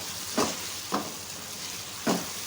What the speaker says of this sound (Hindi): खूब अच्छी तरह से भून लें।